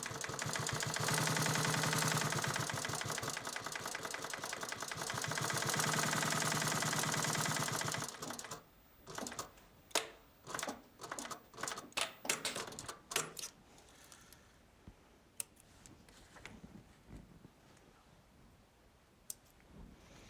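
A sewing machine stitches a leather wallet, with a steady fast stitching run for about eight seconds, then short separate bursts and clicks as it back-tacks and stops.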